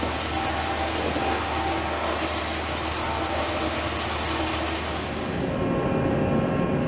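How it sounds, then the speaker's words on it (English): Sorting machines process spent ammunition cartridge casings in a recycling facility, giving a steady loud mechanical ratcheting and clattering churn that runs unbroken throughout, with no voices. "These machines can identify whether rounds have been fired and distinguish between calibers, greatly accelerating processing time."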